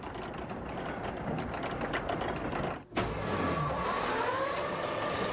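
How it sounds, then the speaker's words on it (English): A 70-year-old electric motor hauls a 7-ton cable car uphill, giving a steady, loud mechanical whir and rumble with a sharp clunk near the middle, after which the churning drive continues unbroken. "this electric motor has made it all possible, pulling the 7-ton car to the top of the hill"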